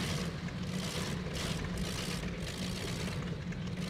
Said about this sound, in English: those are the sounds of an unhappy engine